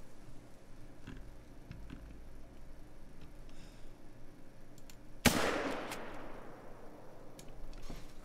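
A single loud rifle shot fired at a musk deer in The Hunter: Call of the Wild, a sharp crack with a trailing echo breaking a quiet outdoor ambience.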